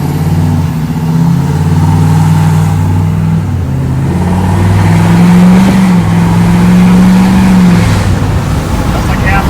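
A deleted-exhaust 2020 Ford Powerstroke diesel Tremor truck revs at about half throttle, its deep loud drone rising and falling in pitch over nearly ten seconds, with voices murmuring underneath.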